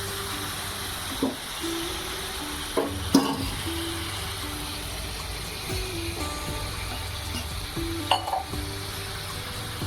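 Sea crabs frying with golden garlic in a pan sizzle steadily once water is poured in. A continuous hiss runs through, with a few soft clinks and stirring knocks on top and no voices.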